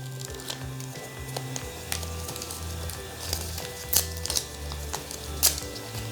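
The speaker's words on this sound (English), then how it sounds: "Now what I'm going to do is pull this tape back." Kinesiology tape is pulled back along a person's quad muscle, making faint crinkly, sticky peeling with scattered sharp little snaps and ticks over a low background hum.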